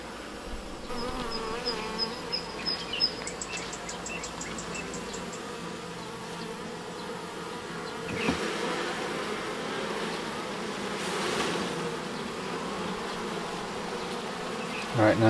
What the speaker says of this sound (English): Right now there's more bees than they have comb for.